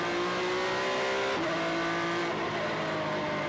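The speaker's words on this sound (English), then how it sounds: "avoids banging wheels with Armstrong, and powers up the hill" A Formula 3 race car at the Macau Grand Prix powers uphill, its engine a loud, close, sustained high-pitched scream with a brief pitch drop at an upshift before climbing again.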